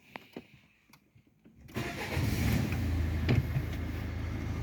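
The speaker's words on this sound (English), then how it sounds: "But will you start the engine?" A Renault Laguna's engine cranks and fires after a few quiet clicks, then settles into a steady, close idle that runs to the end.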